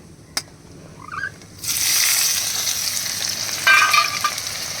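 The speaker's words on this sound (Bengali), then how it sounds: "এই যে দেখো এখন পেঁয়াজ, এই পেঁয়াজটা দিয়ে দেবো।" Onion goes into spices frying in hot oil: a quiet start gives way to a sudden loud sizzle that keeps crackling, with stirring scrapes and a brief surge near the end.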